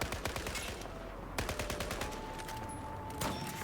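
A SCAR rifle in the Battlefield video game fires in rapid bursts, sharp repeated shots in quick succession with brief pauses between volleys.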